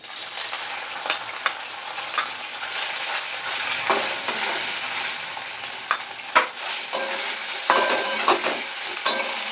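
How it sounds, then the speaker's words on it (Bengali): Chicken sizzles and crackles in hot white cooking oil in a pan, a steady near frying hiss broken by sharp pops and clinks of stirring, heard alone while a pizza topping is prepared at home. "মাংসটা এখন ভেজে নেবো"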